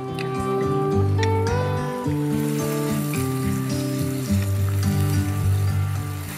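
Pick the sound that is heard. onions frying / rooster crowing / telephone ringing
onions frying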